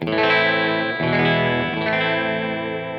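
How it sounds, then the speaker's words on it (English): Fender Jaguar electric guitar played through its bridge pickup with the tone rolled down slightly, ringing out loud sustained chords with a couple of restrikes, colored by distortion and chorus-like effects, with no talking. "So I make sure that this sounds perfect with the bridge pickup with the tone rolled down a little bit."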